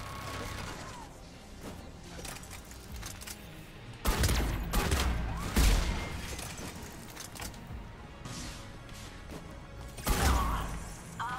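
Rapid turret gunfire and mechanical clatter in the Mass Effect 3 video game, dense bursts of shots with sharp onsets around the middle and near the end over a constant game background.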